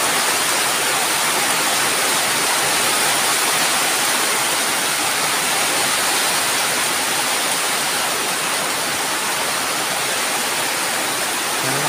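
Very strong wind roars as a steady, dense, unbroken rush of noise at a rural outdoor cooking spot, loud and constant throughout with no voices heard.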